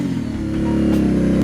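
Aprilia Shiver 900 motorcycle engine revving out on a road, a loud, throaty mid-pitched drone that rises and holds steady close by, with no voices.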